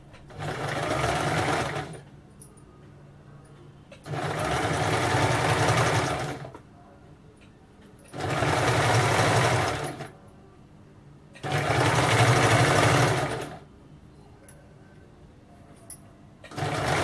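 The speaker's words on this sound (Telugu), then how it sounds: "Okay, stitch this edge in 1/4 inch." A sewing machine stitches a quarter-inch folded edge of fabric piping in four loud, steady bursts of about two seconds each, with short quiet pauses between them and no talk.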